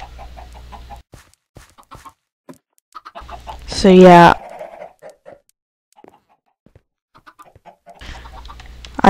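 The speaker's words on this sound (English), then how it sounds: "This is my chicken farm." Chickens clucking on a video game chicken farm, a brief loud burst of fowl calls in the middle with more clucks at the end, while someone talks quietly in between.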